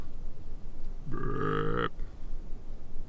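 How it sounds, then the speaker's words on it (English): A single burp heard outdoors in November deer-hunting country, a short voiced rumble of under a second, moderately loud over steady background noise. "Burp."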